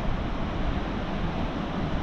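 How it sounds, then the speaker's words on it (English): Sea surf rolling onto a beach on the Llyn Peninsula, a steady wash of broken waves with wind noise, continuous and fairly loud with no distinct single crash. "Waves crashing in."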